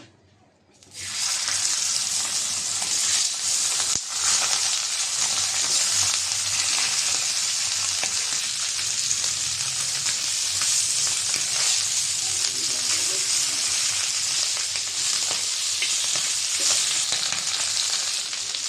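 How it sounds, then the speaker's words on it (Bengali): Sea fish (chapa fish) frying in a pan, a loud, steady broadband sizzle that starts abruptly after a brief quiet moment and continues unbroken for the rest of the clip, close by, with no talking. "বাকি মাছটা এখন ভেজে নেব।"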